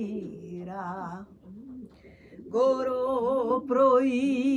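Repeated wavering, tremulous notes with a low throaty coo from a pigeon, mating, growing louder in the second half, close by and without talking.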